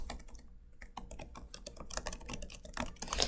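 Keys on a computer keyboard being typed while entering an equation, a quick irregular patter of close, crisp clicks with brief pauses, growing slightly busier toward the end, with no voices.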